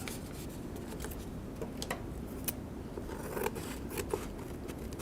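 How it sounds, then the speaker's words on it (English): Scissors snipping through paper for a Mod Podge storage container craft, a steady run of quick close cuts and crisp rustles with no voices. "Just quickly going through with scissors."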